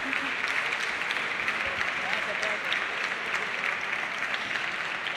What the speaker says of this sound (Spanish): Otro aplauso para ellos, por favor.